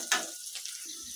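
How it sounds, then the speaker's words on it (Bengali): Onion fries in oil in a kadai, crackling and sizzling close up in short bursts with soft stirring scrapes, fairly quiet. "এখন সে একই কড়াইয়ের মধ্যে আমি পেঁয়াজটা ভেজে নিচ্ছি।"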